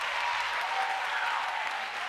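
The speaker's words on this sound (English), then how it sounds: "you can clap for her" Audience applause for a student performer at a senior recital of a school visual and performing arts program, a steady dense wash of clapping throughout, fairly quiet and distant, with faint voices underneath.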